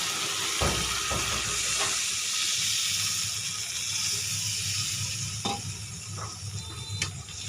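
Rohu fish cooking with tomato in a pan, a continuous close sizzle and steamy hiss with a few soft clinks and stirring touches, no voices.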